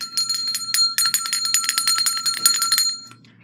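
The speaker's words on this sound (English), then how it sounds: "The bell rings when Courtez for today is over." A bright bell rings in rapid, steady repeated strokes for about three seconds to signal the end of a session, then stops and leaves a faint ringing tail, with no voices.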